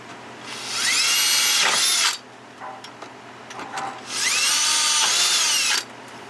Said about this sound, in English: take your 5/16 drill bit and drill out the front and the back hole through the plastic on this side